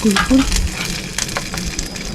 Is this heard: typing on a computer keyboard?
no